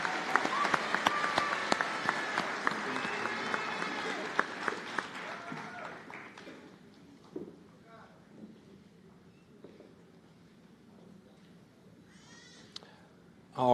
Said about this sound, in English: Round of applause for this great group.